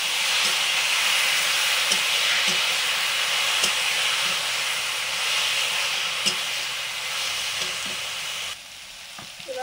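Steamed shola taro hits hot oil in a frying pan with black cumin and green chillies, giving a loud, continuous sizzle and hiss with occasional pops and stirring clicks before it suddenly quiets.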